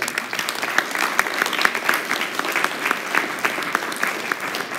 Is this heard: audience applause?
yes